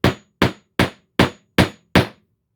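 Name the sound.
hammering nails while assembling a hand tool tote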